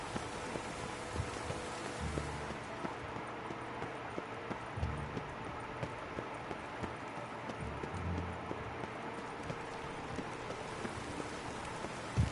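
Soft, steady patter of rain falls on a surface, with occasional heavier drips and low thuds mixed into the quiet wash.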